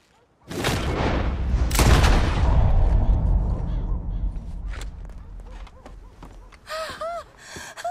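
Gunfire in Red Dead Redemption 2 as a hanging rope is shot: a loud blast at the start and another near two seconds, each with a long rumbling decay, then scattered thinner shots and brief chirping sounds toward the end.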